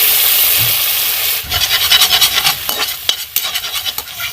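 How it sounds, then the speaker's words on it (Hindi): Malai (cream) roasts on a low flame while being stirred in a pan: a steady soft sizzle gives way to a close, rhythmic run of scraping strokes from the spatula. "मलाई को हम मंदी आंच पे ही भूनेंगे"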